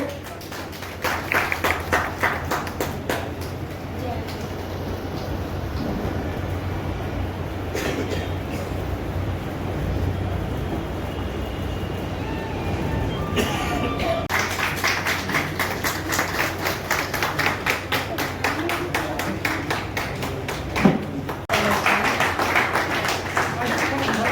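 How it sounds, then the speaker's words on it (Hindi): Outdoor crowd at a Dussehra fair claps for the organizer. Sharp rhythmic claps come in bursts, fade in the middle, then return strongly, with a low hum and some talk underneath. "एक बार जोरदार तालियां बजाएं उनके लिए"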